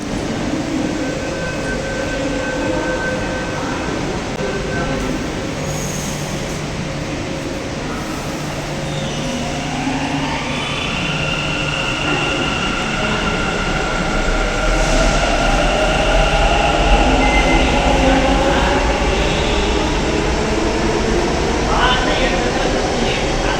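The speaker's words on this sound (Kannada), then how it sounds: "ಸೊ ನಾವು ಬಂದು ಮೆಟ್ರೋದಲ್ಲಿ ಕೂತ್ಕೊಂಡ್ವಿ" A metro train ride in Bengaluru: a continuous loud rumble of the moving carriage with rising and falling wheel and motor whine and some faint squeals, under intermittent talk.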